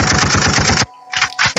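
Rapid automatic gunfire sound effect, loud and close, firing in a sustained burst, breaking off briefly, then resuming in two short bursts.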